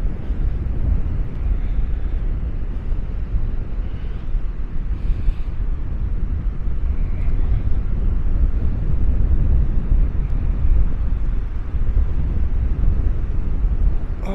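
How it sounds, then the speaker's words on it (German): Strong wind at Maspalomas on Gran Canaria buffets the microphone in a loud, continuous low roar that holds steady throughout, with no voices heard. "Ja, der Wind kommt"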